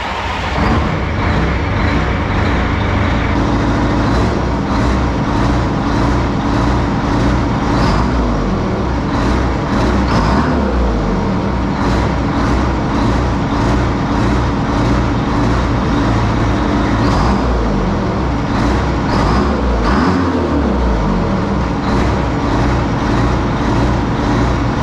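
A race truck's engine roars steadily and loud through a burnout, its sustained revving and rising pitch sweeps dominating without pause.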